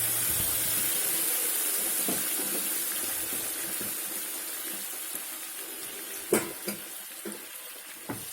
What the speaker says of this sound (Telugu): ఒక గ్లాస్ వాటర్ వేసుకుందాం